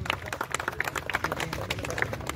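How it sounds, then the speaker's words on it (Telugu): An audience applauds at an outdoor garlanding ceremony for a statue, with dense, steady clapping from many hands and a faint voice underneath. "గట్టిగా చప్పట్లు కొట్టాలండి."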